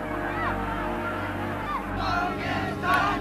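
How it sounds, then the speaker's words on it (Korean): Residents cheer as a truck carrying protesters passes through their neighbourhood, a loud mass of shouting voices that swells and keeps going throughout, with crowd babble mixed in. "트럭 위에 우리 카메라를 발견하자 주민들이 다시 환호했다"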